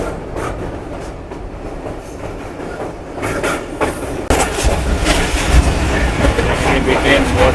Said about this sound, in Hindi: और ट्रेन ने बहुत स्पीड पकड़ी है।